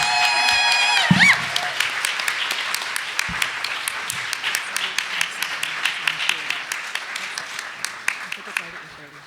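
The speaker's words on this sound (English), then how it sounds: "Can we give another round of applause to Ellen," An audience at a community book launch breaks into applause, steady dense clapping that begins after a brief voice and then gradually thins out over about nine seconds.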